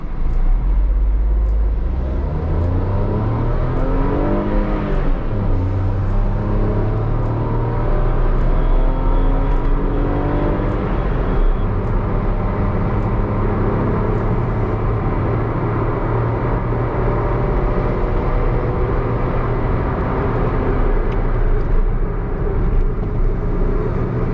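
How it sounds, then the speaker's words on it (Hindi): A Tata Tiago XZA automatic hatchback driven in sports mode with the AC off, its engine rumbling steadily and climbing through rising revs and gear changes, heard continuously from inside the cabin with no talking. "तो हम एक बार इसको स्पोर्ट्स मोड में ड्राइव करके देख लेते हैं।"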